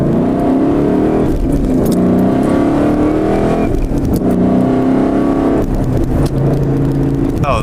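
Ford Mustang engine droning steadily under load through a quick gear change, a loud close cabin hum with a brief dip and shifting pitch as the next gear engages.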